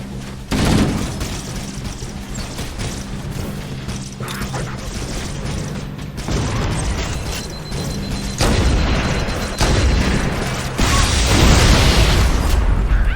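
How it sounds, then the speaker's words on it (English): Explosions and gunfire rumble through a Halo: Combat Evolved battle, with repeated booming blasts from an enemy cannon and grenades building in loudness over a continuous noisy backdrop of mechanical clatter. "I'm not sure if it was the blast from that enemy gun cannon in the distance or if they managed to land a grenade next to me"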